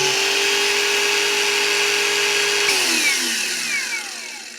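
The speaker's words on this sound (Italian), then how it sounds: "sentite dal rumore che accelera gradualmente." A Parkside Performance 20V cordless angle grinder with soft start runs at a steady, loud whine and then winds down as its pitch falls away and the sound fades toward the end.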